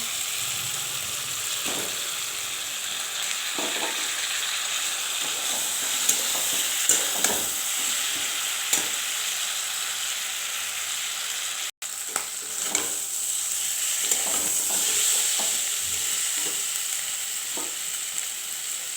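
Hilsa fish head cooking with pumpkin in a pan, a steady sizzle and bubbling broken by occasional spatula scrapes and stirs, close and continuous with no talking.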